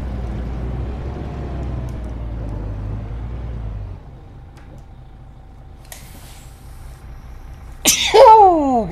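A sneeze in a room during a bus-simulator game session, a sharp burst near the end following low engine rumble, heard alone without talk.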